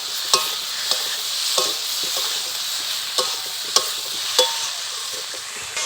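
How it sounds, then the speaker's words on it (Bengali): Vegetables with ginger paste stir-fried in a pan, a steady bright sizzle broken by scraping spatula strokes at an uneven rhythm, close and fairly loud with no talking. "আদা বাটা দিয়ে একটু ভালো করে কষিয়ে নেব।"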